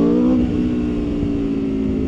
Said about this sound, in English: I love the sound that when that exhaust valve opens